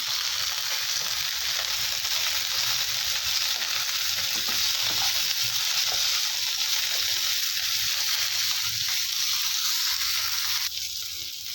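Fresh coriander and a handful of mint sauté steadily in a hot pan for a chicken gravy, a continuous loud sizzle and frying hiss with a few soft stirring scrapes, with no one talking.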